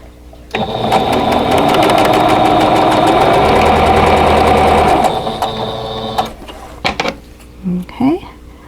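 A sewing machine runs steadily for several seconds, joining quilt block pieces with a dense, whirring mechanical hum, then stops and is followed by a few short handling sounds.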